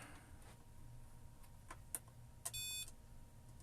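A multimeter's continuity tester gives one short, steady high-pitched beep, about a third of a second long, against a low background hum while an old Compaq Portable computer is probed; a couple of faint clicks come just before.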